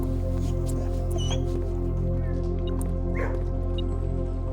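Dog whimpering in a kennel in the Blue Prince video game, with soft, high yips and whines scattered over a steady, loud musical and ambient backdrop.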